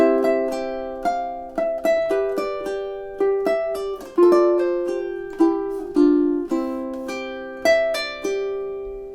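A ukulele plays measures 11 and 12 of a song, solo and close, with a dozen or so plucked chords and notes, each ringing out and decaying before the next.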